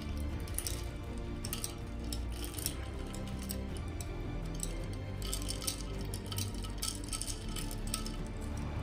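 A spoon stirs iced coffee in a glass, giving a steady run of light clinks and ticks against the glass with ice, close and fairly quiet, continuous for several seconds with no talking.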